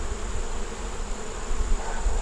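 Honey bees buzzing at the hive, a steady close drone with a soft low rumble of handling noise beneath, no speech.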